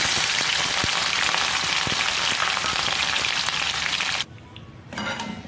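Hot tempering of green chilli paste, water and sugar sizzles loudly and steadily as it is spread over nylon khaman dhokla, then cuts off abruptly near the end, leaving a quieter hiss.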